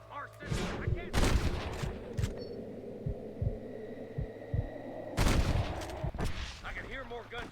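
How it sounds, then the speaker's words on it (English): Scattered gunshots in the video game Red Dead Redemption fire in short bursts over a low hum, some sharp and close, others softer, with faint voices in between. "I can hear more gunshots."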